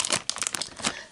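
A large, light plastic bag rustles and crinkles up close in quick irregular bursts of crisp, bright crackling, loud and alone for about a second.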